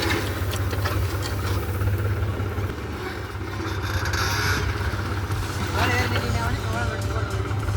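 A farm vehicle's engine runs steadily as it rolls slowly downhill during millet sowing, a constant low rumble beneath continuous nearby talk.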